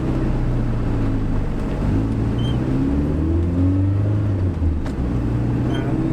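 A Saab 9-5 Aero's engine runs warm with a steady low drone that rises and falls through a few gentle revs, close and continuous with no talking.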